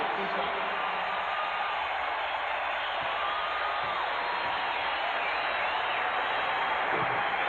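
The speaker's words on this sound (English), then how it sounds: "Michael Jordan goes to the bench to a very nice round of applause" In an NBA basketball arena, a crowd's broad, hissing wash of applause and cheering carries on steadily as a player heads to the bench, with some speech mixed in.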